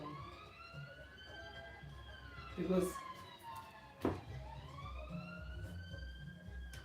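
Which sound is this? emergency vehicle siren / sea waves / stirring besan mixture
emergency vehicle siren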